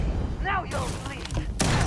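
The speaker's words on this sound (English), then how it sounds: "What if I use the shotgun?" Shotgun blasts from the video game Starfield, with bursts of gunfire and a heavy boom near the end, mixed with game voices and effects.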